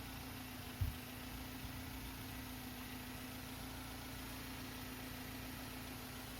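A Mercedes-Benz 190E engine idles quietly with a smooth, low, constant hum, broken only by one brief thump near the start.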